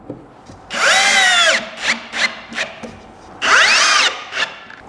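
A power drill drives #8 5/8-inch screws into a wooden drawer box in two sustained whirring bursts, each rising then falling in pitch, with short clicks and taps between them, close and alone.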